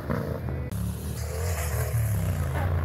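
A big motorcycle engine drones loudly and steadily at close range, its pitch wavering slightly as the revs shift, with no talk.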